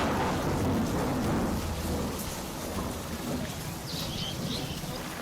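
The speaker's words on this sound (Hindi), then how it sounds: "कई जिलों में तेज बारिश से जनजीवन अस्त व्यस्त हो गया है।" Heavy monsoon rain pours steadily in Rajasthan during widespread flooding, a dense, loud roar of water on surfaces throughout, with deep thunder rumbling underneath and no voices.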